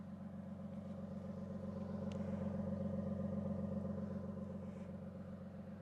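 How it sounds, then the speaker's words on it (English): A 2023 Toyota Sequoia TRD Pro SUV's steady, deep exhaust rumble drones continuously at a low level, with no talking. "Listen to that exhaust."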